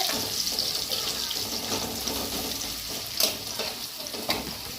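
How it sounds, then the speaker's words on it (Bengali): Onion drops into hot oil for a katla fish dopiyaji, producing a close, steady frying hiss with intermittent stirring scrapes and a couple of brief louder bursts. "তেলটা গরম হয়ে গিয়েছে, প্রথমে পেঁয়াজ দিয়ে দিলাম। পেঁয়াজটা এখন একটু ভেজে নিতে হবে।"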